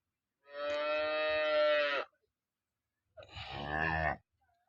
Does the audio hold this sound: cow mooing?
yes